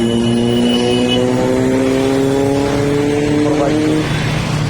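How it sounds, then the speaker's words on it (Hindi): A superbike passes on the road at night, its engine a loud, steady tonal whine that slides in pitch as it goes by, heard close over continuous road noise. "सुपर बाइक ले जा रहा है भाई"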